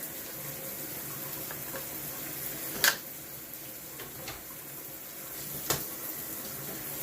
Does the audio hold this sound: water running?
yes